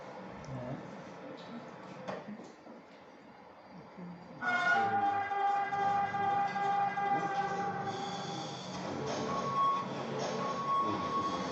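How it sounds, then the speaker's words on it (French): TGV train driving simulator at a model railway exhibition, a steady rumbling cab and track sound with tonal whine and hum that grows louder midway, no talk. "simulateur de conduite ferroviaire avec plusieurs écrans, dont un écran assez grand qui permettait de s'immerger pour la conduite par exemple ici d'un TGV"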